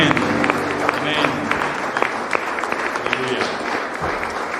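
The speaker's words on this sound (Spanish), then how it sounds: "Fuerte ese aplauso a nuestro Dios." Church congregation applauding, a dense steady wash of many hands clapping that fills the whole stretch, with crowd noise and a few voices mixed in.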